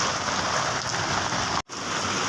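Heavy rain pours down in a dense, steady hiss, loud and continuous, with a brief cut to silence partway through.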